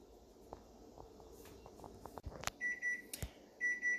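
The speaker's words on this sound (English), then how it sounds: "you can hear our timer going off, so it's been 6 minutes" Kitchen timer going off after corn has cooked for six minutes, sounding as short bursts of high electronic beeps in two groups near the end, after a few soft kitchen clicks and taps.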